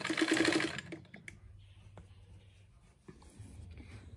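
Sewing machine stitching a fabric rug with pointed edges: a short, loud, close buzzing run of the needle for under a second, followed by quieter handling noises and soft thumps.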